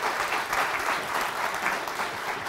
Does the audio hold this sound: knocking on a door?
no